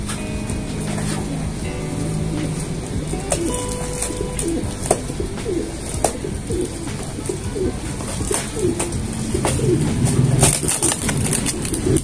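Pigeons coo steadily from a loft of prized racing or show birds, soft repeated calls layered over constant background noise, with faint rustling and a distant engine hum.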